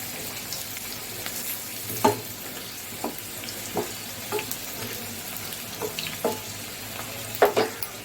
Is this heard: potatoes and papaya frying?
yes